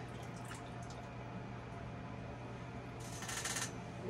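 Water sloshes and drips faintly in a small gold pan holding black jet during a Lake Superior clean-up, with a brief brighter splash near the end over a steady low hum.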